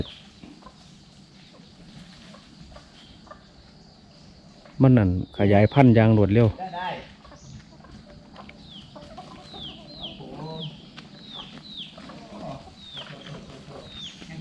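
Free-roaming chickens kept at a Thai temple give a brief loud burst of clucking and squawking close by, then fainter clucks scattered behind someone talking for most of the stretch.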